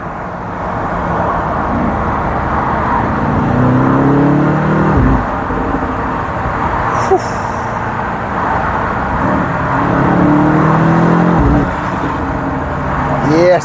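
A BMW XM G09 SUV with 480 kW of power revs its engine twice, each rising blip loud and close, separated by a steady idle while a person speaks nearby.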